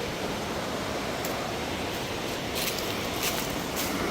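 A waterfall near Chimney Rock, a steady broadband rushing roar, constant and fairly close with no talk.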